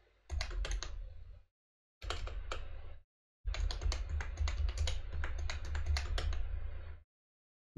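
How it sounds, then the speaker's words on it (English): Close, crisp keystrokes on a computer keyboard as a PS3 IP address is entered on a PC, typed in three bursts of rapid clicks separated by short silences, with no talk. "what you want to do is type in your PS3 IP address right here"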